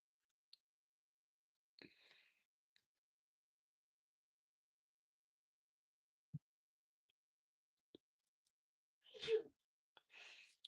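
A single sneeze sounds near the end of an otherwise near-silent stretch. A few faint clicks and small noises come before it.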